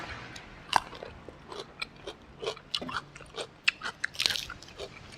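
Crunchy fresh vegetables bitten and chewed alongside a spicy Thai chicken feet salad with fermented fish sauce, a run of close, sharp crunches and chewing noises at an uneven pace.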